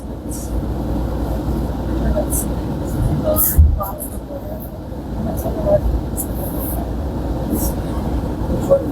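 A moving passenger train in Canada, heard from inside: a continuous low rumble with rhythmic rattles and a brief louder jolt midway, with a voice over it.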